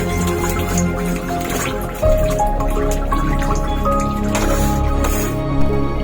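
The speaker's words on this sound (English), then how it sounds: "squeeze the bundle of cow dung in the water thrice continuously" A bundle of cow dung is squeezed in a container of water, giving loud close wet squishing and dripping with liquid trickling back, the squeezes repeating in a steady run of several seconds.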